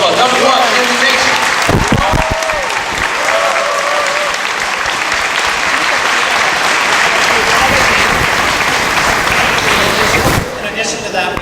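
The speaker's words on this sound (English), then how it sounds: "Let's give her another round of applause." An audience at a school board meeting keeps up loud, sustained applause for about ten seconds while a voice speaks over it early on, and the clapping thins out near the end.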